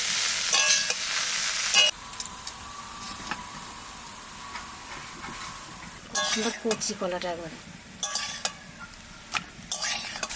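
Sliced potatoes tipped into a pan of lightly fried onions for a Bengali aloo posto dish, giving a bright sizzle at the start, then softer frying with scraping and stirring clatter of a utensil against the pan.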